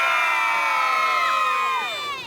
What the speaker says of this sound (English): on the count of 3, I want you all to cheer